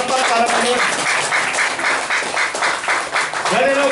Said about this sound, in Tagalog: Lakas ng palakpak para kami.